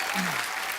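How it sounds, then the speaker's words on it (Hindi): Short burst of clapping from a television comedy show's studio crowd, fairly soft and even, with a faint voice briefly over it. "जोरदार तालियां।"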